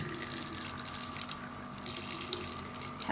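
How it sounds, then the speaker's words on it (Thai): Gentle stream of tap water running into a sink as eyeglass lenses are rinsed under it, a steady soft splashing hiss that stays even and close for the whole span. "ให้เราเปิดอ่อนๆเล็กน้อยนะคะ ลักษณะนี้ จากนั้นนะคะนำเลนแว่นนะคะ ไหลผ่านน้ำค่ะ"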